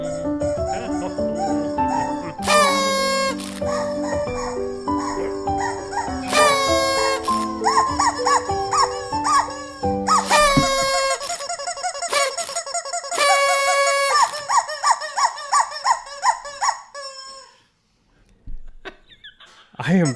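Rubber chicken toy squeezed repeatedly to play birthday music on a morning show, giving loud, close squawking squeaks in melodic bursts and phrases that trail off, followed by a brief final squeak.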